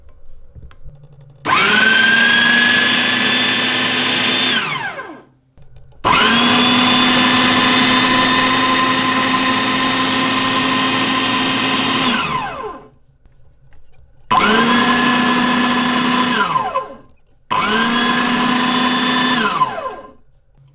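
A Lidl Silvercrest SFW 350 electric meat mincer running in four bursts, each a steady loud motor whine of several seconds that winds down when switched off, with short quiet gaps between runs.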